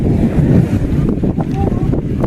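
Strong storm wind buffets the microphone in a continuous, loud rush, with low gusty rumble and no clear speech.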